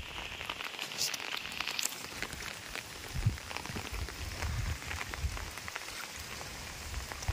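Heavy rain pours down on a rainy day by a village pond, making a continuous dense hiss with scattered drop patters, steady and somewhat faint, with no voices.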